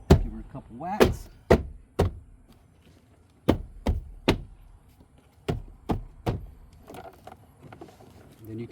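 Sharp whacks land on a Toyota Camry door panel being knocked back into place, about a dozen hard thumps in uneven pairs and clusters, close and loud with brief quiet gaps between.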